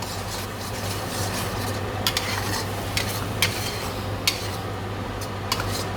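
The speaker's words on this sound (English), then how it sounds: "we add 1 cup of tomato puree. And give that a good stir." Tomato puree being stirred into a curry sauce in a pan, a steady soft scraping with occasional sharp clinks of the utensil against the pan, no talking.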